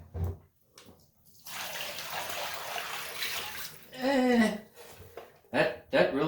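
Dirty water is dumped out of the tank of a Hoover SpinScrub50 carpet cleaner. A broad, steady pour splashes for several seconds, with short bursts of talk before and after it.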